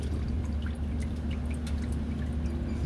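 A steady liquid trickle of engine oil drains continuously from a 2019 Dodge Hellcat after an engine flush, close by, with a low hum beneath and faint drips scattered over it.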